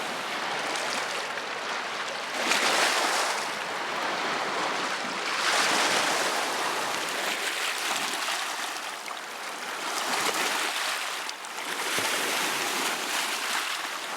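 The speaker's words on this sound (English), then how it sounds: "It is here at these pebble beaches that you hear the song of Superior, waves unfolding onto shore and then retreating" Lake Superior waves wash onto a pebble beach and pull back, broad rushing swells rising and fading in slow cycles every few seconds, loud and close, with no voices.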